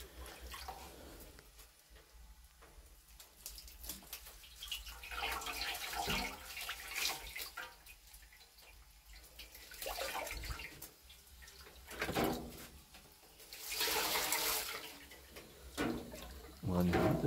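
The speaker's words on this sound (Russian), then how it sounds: "Водичка." Water pours and splashes in a Russian banya, rising in several surges over a quiet, hollow room tone, with a few soft voices in the background.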